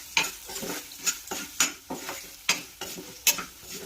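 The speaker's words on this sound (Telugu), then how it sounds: "ఇందులోనే ఇంకా కొంచెం ఆయిల్ పోసుకొని కాకరకాయలు వేయించుకున్నాం" Bitter gourd pieces frying in oil in a pan, stirred with a metal spatula: regular scraping strokes about twice a second over a continuous close sizzle, with no talking.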